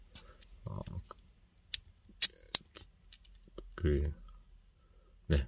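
Push-button clasp on an Omega Ploprof 1200M steel bracelet, a few crisp sharp metallic clicks spaced apart, close up, with brief soft talking between them.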